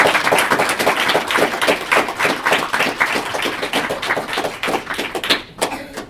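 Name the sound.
applause for scholarship recipients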